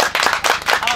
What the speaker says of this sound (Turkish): bir alkış alalım gerçekten.